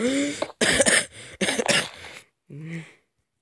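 A person coughs several times in quick bursts, close and loud, with short gaps between, then a final throaty cough.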